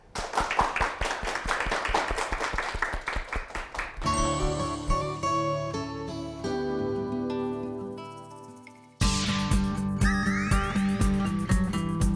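A live audience at a Korean lecture show claps to welcome a speaker: dense, steady applause for about four seconds, then music plays before a second loud burst of clapping and sound near the end.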